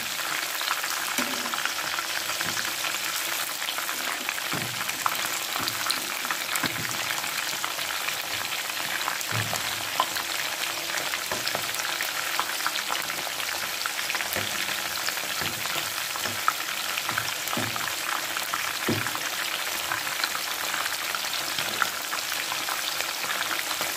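Prawns for a spicy restaurant-style prawn kabab fry in hot oil with a dense, even crackle and spatter that keeps up steadily throughout, close and loud, with no talking.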